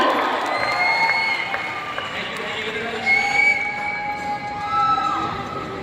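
A crowd cheers, shouts and claps at a lively corporate stage program in Raipur, with whistles and sustained tones cutting through a dense, continuous wall of voices.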